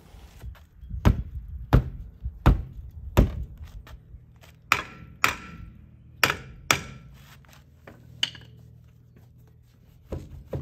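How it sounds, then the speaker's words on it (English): Heavy hammer blows strike a stuck steel wheel on a Chevrolet Nova hub in irregular spaced hits, about a dozen sharp clanging impacts with short ringing tails, close by. "just take a hammer and a little bit of persuasion"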